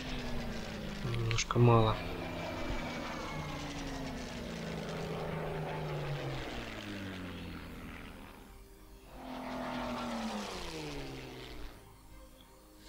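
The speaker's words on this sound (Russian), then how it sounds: "Но мы опять сейчас будем поднимать в небо бомбардировщик" Propeller bomber engines in the WWII strategy game Order of Battle drone and rise in pitch during takeoff, heavy tonal engine harmonics sweeping and fading in waves, with someone talking over them.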